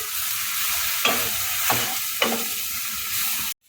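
A spoon stirs a drumstick flower mixture with mustard paste and turmeric in a pan, steady sizzling with a few scraping strokes, close, ending abruptly, no voices.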